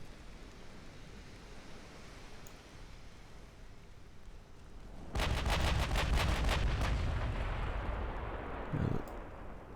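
Naval guns of 7-inch calibre fire in the warship game Ultimate Admiral: Dreadnoughts: a loud salvo of rapid booming blasts bursts in after a stretch of low rumbling sea ambience, then a rolling roar that fades.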